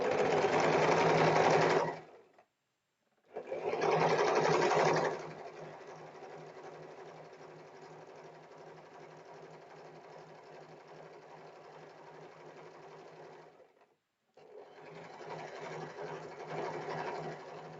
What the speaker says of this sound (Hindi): अब हम स्टिचिंग स्टार्ट करते हैं।